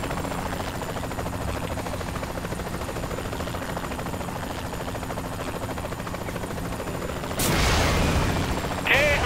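Helicopters flying in during a Saints Row: The Third Remastered co-op mission: a steady rotor drone runs throughout, joined near the end by a louder burst of gunfire or an explosion and a rising mechanical whine.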